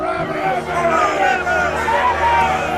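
An agitated crowd stirred up against Jesus by the chief priests in a theatrical audio drama of the Book of Mark: loud, close, overlapping voices shouting and murmuring together as one agitated mass.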